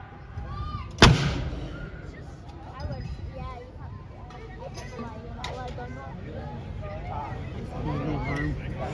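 Artillery guns firing at an Armed Forces Day display in a lakeside park, one sharp loud boom near the start followed by crowd chatter and calls from people nearby.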